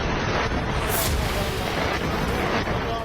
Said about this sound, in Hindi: इन तस्वीरों में ग्लाइड बम के इस्तेमाल को साफ देखा जा सकता है